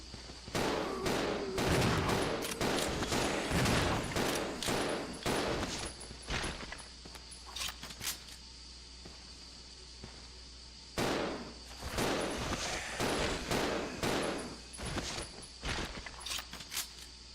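Gunfire in the Resident Evil 0 video game, rapid bursts of sharp shots in quick clusters, a pause of a few seconds, then another volley of repeated shots.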